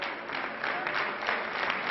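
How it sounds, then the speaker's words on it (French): Party supporters give sustained, dense applause for an arriving political leader, a steady wash of many hands clapping at close range with no voices over it. "longuement applaudi par ses troupes."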